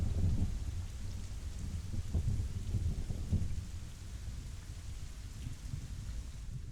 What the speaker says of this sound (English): You can all hear the thunder, right?